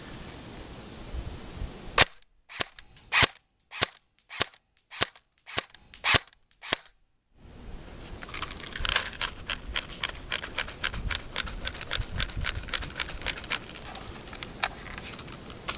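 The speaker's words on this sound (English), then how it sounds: "We are firing with Airsoft GI Action Army .25 gram BBs at a distance of around 60 feet." An A&K Masada airsoft rifle fires .25 gram BBs: first a series of separate, evenly spaced sharp cracks, then a fast full-auto burst of rapid snapping shots, close and crisp.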